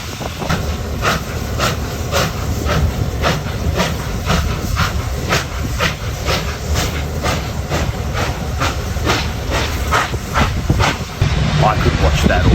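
Steam locomotive R707 City of Melbourne of the Victorian Railways, at a workshops open day, lets out a loud continuous steam hiss with a steady rhythmic chuffing pulse running through it, close and powerful throughout.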